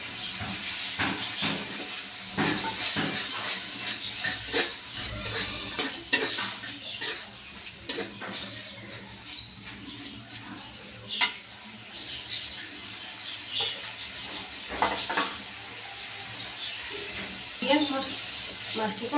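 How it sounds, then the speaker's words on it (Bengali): Shrimp frying in a pan with turmeric and salt, giving a steady soft sizzle and hiss broken by scraping and stirring knocks against the pan, with a voice talking over it. "মাছটি কষাই দিই।"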